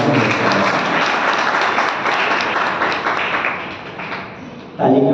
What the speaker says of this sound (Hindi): ताली क्यों बजाई आप?